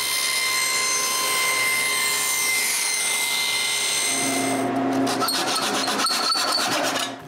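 A power tool whines steadily as it spins up, then bites into thin wooden strips with a rougher, rattling cutting noise for the last few seconds, loud and close, with no speech.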